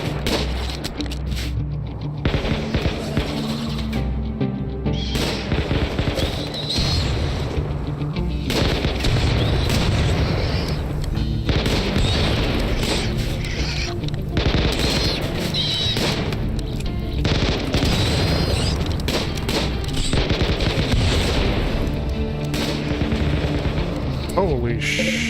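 Gunfire from the colony-sim video game RimWorld cracks repeatedly, with dense bursts of rapid shots and heavier booms running almost continuously, while voices talk over the fight.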